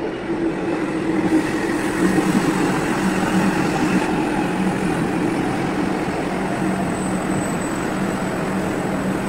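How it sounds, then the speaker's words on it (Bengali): A Kolkata Metro train arrives at a station platform with a loud, steady rumbling roar and a low hum that holds constant throughout, with no voices. "এটা P1 এ ট্রেন আসছে মেট্রো।"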